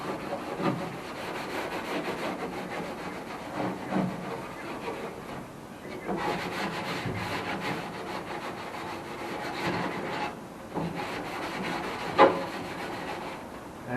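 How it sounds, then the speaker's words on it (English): Treatment being rubbed by hand into the bare metal floor of a Holden Torana UC, a continuous close scrubbing and rasping that swells and eases in long strokes over a dull workshop background. "And just rub that in, work it in."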